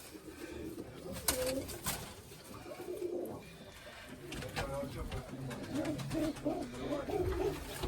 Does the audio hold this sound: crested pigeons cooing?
yes